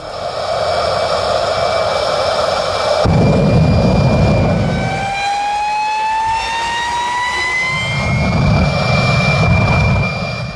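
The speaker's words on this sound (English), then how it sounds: "the sound of the modified Daihatsu Mirror is similar to that of an airplane" A Daihatsu Mira car fitted with a jet engine lets out a loud, sustained turbine roar with whining tones that sweep upward, surging and easing back, close and alone without talking.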